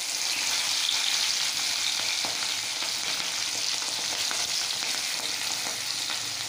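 Pan frying during egg biryani preparation, onions sizzling in oil with a dense, steady crackling hiss and faint stirring taps, close and uninterrupted, no voices.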